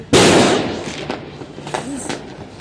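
A loud New Year's firework blast bursts sharply, then crackles and pops fade into distant booms, with faint voices in the background.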